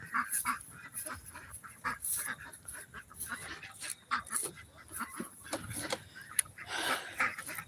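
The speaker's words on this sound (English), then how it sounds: "Yes, all ducks are in the pens." Farm ducks in an evening pen quack and honk in scattered, overlapping bursts, moderately near, a busy flock calling steadily with no talk.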